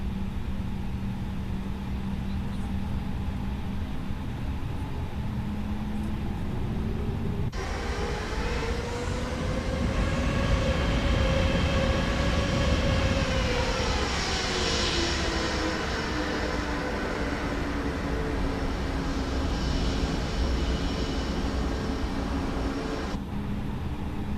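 An Airbus A320neo in Microsoft Flight Simulator releases its parking brake and taxis into a sharp right turn at a St. Louis airport. Its jet engines give a steady, loud droning hum whose whine rises and sways in pitch.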